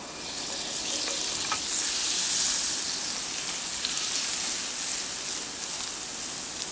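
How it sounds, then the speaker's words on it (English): Butter and frittata sizzle steadily in a frying pan, a close, continuous crackling hiss that swells slightly in the middle and carries on without pause. "So I'm going to add a little butter to it, to the pan."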